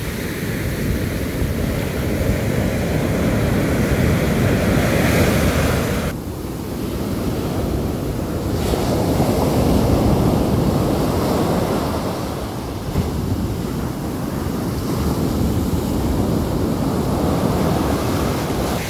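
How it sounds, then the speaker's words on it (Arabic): Waves of a rough, choppy sea crash and roar continuously on a fishing outing, loud and close, with strong wind buffeting the microphone and no voices heard. "البحر هايج بزاف فهمتيني"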